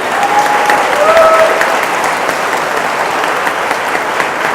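Guests at a party break into dense, sustained clapping that fills the room at close range and holds steady, with faint voices mixed into the applause.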